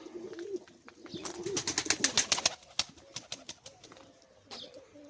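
Pigeons coo and rustle close by in a loft, with a flurry of flapping wings in the middle, and scattered chirps and clicks in the enclosed space.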